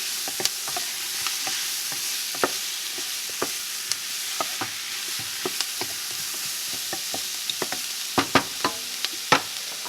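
Turkey sizzles steadily in a pot as it starts cooking for collard greens, a continuous frying hiss broken by frequent sharp pops and stirring clicks, close and clear with no talking.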